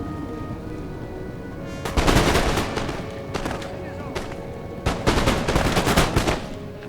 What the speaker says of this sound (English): I can get 3 units firing in at once.